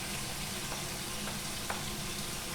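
Cauliflower fried rice fries in a pan with a steady, close sizzle, broken by a few faint stirring clicks.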